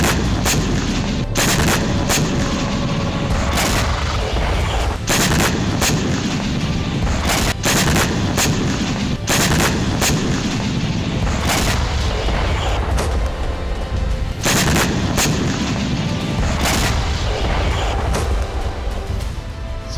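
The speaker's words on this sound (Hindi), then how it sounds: "तभी डैम पर एक जबरदस्त धमाका" Heavy blasts at a dam during the Russia–Ukraine war, captured by a surveillance camera. A dense, loud series of booming explosions and sharp cracks repeats for the full stretch, with no voices.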